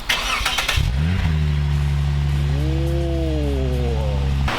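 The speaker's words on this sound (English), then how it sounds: "you guys are gonna get a cold startup of a Lexus IS 350 F Sport." A Lexus IS 350 F Sport with upgraded F Sport exhaust cold-starts: a starter crank, then the engine catches with a rev flare and settles into a loud, steady high idle that rises and falls once, close to the microphone.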